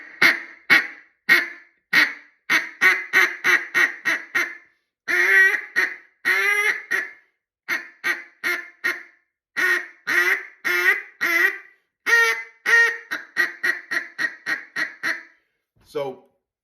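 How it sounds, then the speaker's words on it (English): A wooden Arkansas J-frame duck call blows loud, rapid quacks in quick bursts with brief pauses between runs, close and unaccompanied. "you want to focus on the quack first in any call."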